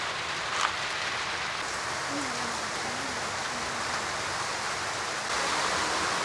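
Steady, dense rain pours at a mini farm during a storm, a constant wash of noise that swells slightly louder near the end, with a faint low hum underneath.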